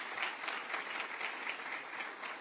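Clapping from a group of people, soft and distant, a steady patter of many hands sounding quiet and somewhat muffled for the whole stretch.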